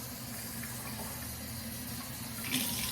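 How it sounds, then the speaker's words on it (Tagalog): Water runs steadily from a kitchen tap, a close, even gush with no pauses and a slight swell near the end. "Kasi ito po namang gripo dito."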